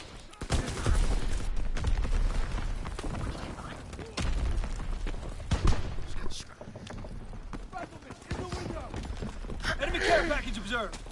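Scattered gunfire bursts in Call of Duty WW2 combat, sharp shots at irregular intervals mixed with battlefield clatter, with voices talking over the action.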